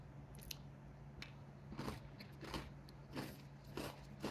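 Close, quiet crunching bites of a crunchy chocolate cookie at an uneven pace, several sharp crisp chews separated by softer pauses, with a low hum in the background.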